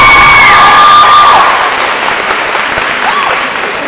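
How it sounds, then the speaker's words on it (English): A conference crowd applauds the event workers at a youth gathering, loud clapping with cheers and whoops, opening with a brief held tone before settling into sustained applause. "Sisters, give a round of applause for all the workers that have made this conference a success."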